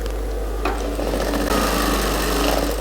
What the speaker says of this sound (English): you are going to run a stitch on the down part